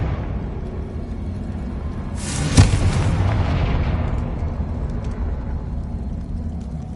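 A Confringo blasting curse explosion in Hogwarts Legacy on PS5, a single sharp blast followed by a fading rumble over steady low background noise.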